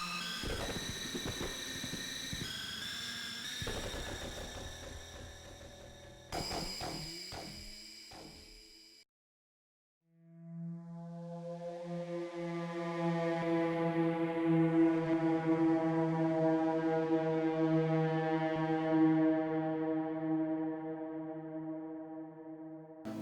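A single sustained note from a horror-suspense synth preset in a VST plugin: a rich harmonic drone that swells in after a brief silence and holds steady, loud and alone, following some earlier plucked synth tones.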